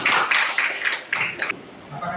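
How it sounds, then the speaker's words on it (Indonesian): Audience applause at an Indonesian gathering, a short burst of close, loud clapping in uneven waves that stops abruptly after about a second and a half. "tepuk tangan untuk kita semuanya."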